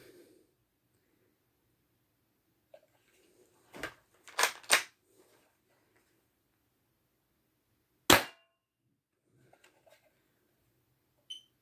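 A Tokyo Marui airsoft revolver fires .20 g BBs through a chronograph: a few sharp, close cracks, three in quick succession and then a lone louder shot, separated by near silence with faint handling clicks.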